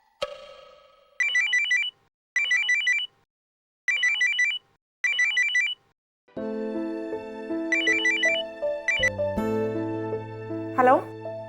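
A phone ringtone chirps in short repeated bursts, four rings separated by pauses, then keeps going beneath a swell of dramatic television-serial music before fading out.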